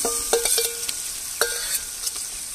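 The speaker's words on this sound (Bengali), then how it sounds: "বন্ধুরা মাংস কষানো হচ্ছে" Boneless chicken pieces stir-fried in spices and oil for a Mughlai paratha filling, with a steady sizzle broken by several sharp spatula scrapes and clinks against the pan, close and fairly loud, no voices.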